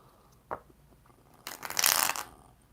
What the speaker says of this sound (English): These cards are kind of like really hard to shuffle